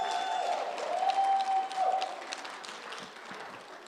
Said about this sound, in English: So can we give that a round of applause?